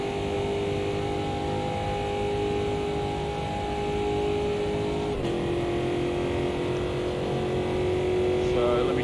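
A race car's engine drones steadily in a racing video game during qualifying on auto drive, its sustained tone dipping slightly partway through, with a voice talking over it.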